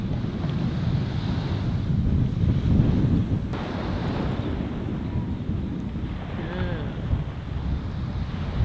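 Strong wind at an ocean beach on Cape Cod in Provincetown, with a steady roar of gusts buffeting the microphone and surf rolling underneath throughout.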